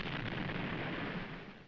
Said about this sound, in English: The gunfire support ships had their hands full, supplying cold fire for the assault troops.